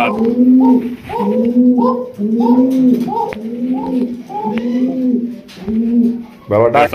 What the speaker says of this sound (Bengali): হাই কোয়ালিটির ব্লু শার্টিন কবুতর